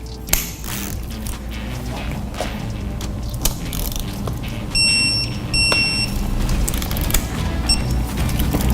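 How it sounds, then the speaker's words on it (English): Torque wrench tightening bolts on a KTM motorcycle during an oil change: scattered metallic ratchet clicks and mechanical clatter over a steady background hum, with a couple of brief high electronic beeps in the middle. "next thing I do is grab my torque wrench"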